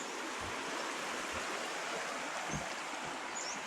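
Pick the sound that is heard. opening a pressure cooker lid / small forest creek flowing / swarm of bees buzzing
small forest creek flowing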